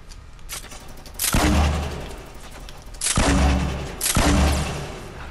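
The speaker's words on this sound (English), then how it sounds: "here comes the grenade launchers" Fortnite grenade launcher rounds explode in heavy, booming blasts, three loud detonations spaced a second or two apart, each with a deep rumbling tail, close and dominant over the game ambience.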